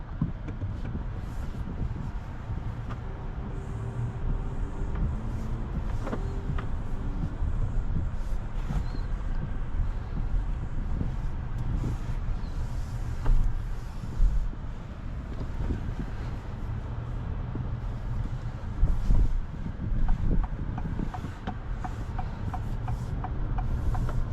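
A 2026 Acura MDX Tech SH-AWD heard from inside the cabin while driving on the road: a steady low rumble of road and wind noise, with faint scattered ticks and rattles throughout.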